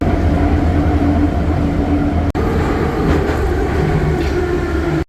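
A metro train rumbles loudly and steadily in an old, unrenovated Saint Petersburg station, a dense continuous roar with a brief clunk midway and another at the end.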